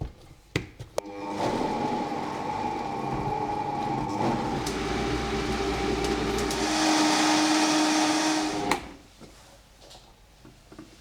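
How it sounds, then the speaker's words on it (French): A blender mixes cold vegan soup, running as a loud, steady whir for about eight seconds before cutting off abruptly. "Et à nouveau, on va pouvoir mixer."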